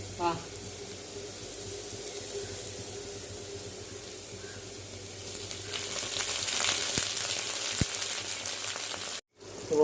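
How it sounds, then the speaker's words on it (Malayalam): Beef frying in oil with shallots and curry leaves, a steady close sizzle that swells louder toward the end with scattered crackles and stirring, with a brief cut near the close. "അപ്പം നമ്മൾ ബീഫ് തൂമ്പിക്കാനുള്ള പരിപാടിയാണ്"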